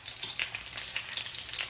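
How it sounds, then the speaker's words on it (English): Meatballs frying in a pan, a dense continuous sizzle with soft crackling pops, fairly quiet and alone. "I'm just gonna allow to fry on each side for 2 minutes"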